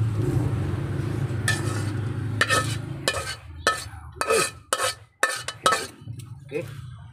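Dried anchovies and tomatoes are stirred in a frying pan, with a run of distinct clinking, scraping strokes of a utensil against the pan over a faint background sizzle that fades as the stirring goes on.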